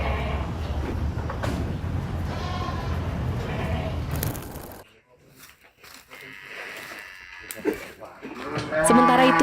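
Sacrificial cattle weighing 300 kg to a ton low and moo at a crowded farm in Kupang, East Nusa Tenggara, with loud, close calls over a busy background and voices heard around them.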